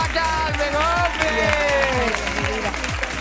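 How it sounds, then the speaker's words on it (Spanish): Studio audience at a televised singing competition, La Voz Senior, applauding and cheering in a continuous dense wash of clapping beneath loud band music and a voice speaking over it. "¡Pero fuerte aplauso para Carmen, hombre!"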